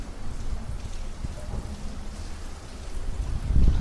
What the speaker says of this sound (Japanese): 天気予報通り急に強い雨が降ってきました